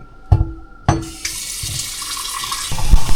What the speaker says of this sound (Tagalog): Itong pitchel guys, lagyan natin tubig.